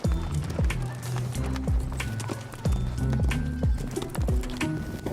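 Horses clip-clop along a steep trail during a group ride, with a close, irregular patter of hoofbeats on hard ground and occasional faint bird calls.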